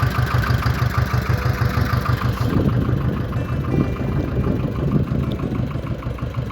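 Yuto 180 mini tractor engine pulling a Virax 2-25 plow through an alfalfa field, a steady loud diesel chug with a rhythmic low pulse that holds constant throughout.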